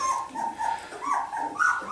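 Three-week-old Berger Blanc cross puppies whimper close by in a string of high, wavering whines and short yips that rise and fall in pitch, with no talk over them.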